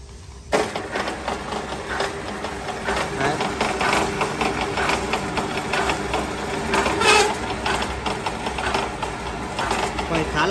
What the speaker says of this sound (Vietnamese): Đấy, thì máy chạy motor lớn luôn.